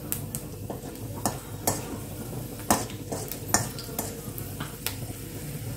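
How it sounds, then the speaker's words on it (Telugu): Peanuts dropped into hot oil in a kadai while a spoon stirs and scrapes, sharp metallic clinks and knocks recurring irregularly over a low steady sizzle, close and fairly loud. "సరిపడా నూనె పోసుకోండి ఫ్రెండ్స్. ఓకే, ముందుగా పల్లీలు వేసుకోండి."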